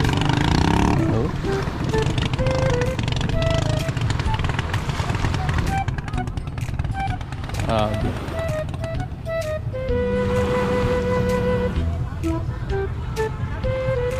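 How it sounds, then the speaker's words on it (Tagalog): A vehicle engine misfiring as it runs, its roar steady but uneven, with voices talking over it throughout. "Palyar ang makina."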